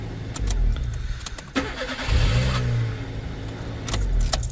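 A small 1.5-litre car engine cranks and catches on a jump starter, then runs with a low steady rumble, with brief clicks and rattles around it.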